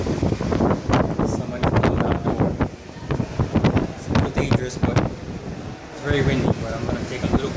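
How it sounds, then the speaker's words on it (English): Strong hurricane wind buffets outdoors, roaring and gusting loudly against the microphone in uneven blasts throughout, with no clear voices. "It's a little dangerous, but it's very windy."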